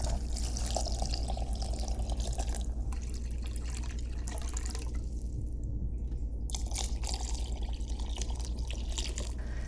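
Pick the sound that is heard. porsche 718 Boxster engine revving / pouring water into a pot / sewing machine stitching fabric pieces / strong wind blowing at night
pouring water into a pot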